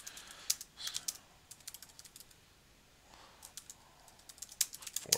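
Quick bursts of key clicks on a computer keyboard, close and fairly quiet, come in uneven runs with short pauses between them.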